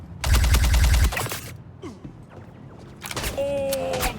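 Rapid gunfire hits on the player in the video game Star Citizen, a loud dense burst of shots up front, then scattered mechanical clatter and a second burst with ringing tones.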